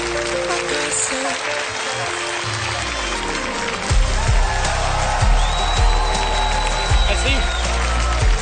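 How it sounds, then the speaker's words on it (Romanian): Audience applause at a Comedy troupe stage show in Moldova, a broad steady wash of clapping mixed under music, singing and a host's voice, with deep thumping beats joining midway. "Aplauze pentru cei doi astronauți."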